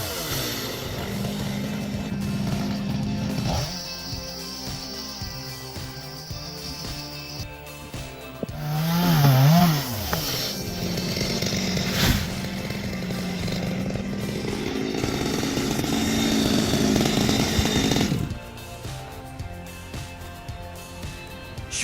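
A chainsaw cuts firewood with a buzzing engine drone that rises and falls as it bites into the wood, with a high revving burst midway and a sustained loud whine to the end.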